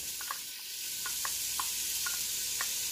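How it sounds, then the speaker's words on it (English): Small cut-up bacon pieces sizzle steadily in a hot Ninja Foodi pot, a continuous hiss of frying with faint crackles and light pops scattered throughout, no voices. "I'm going to go ahead and add my bacon."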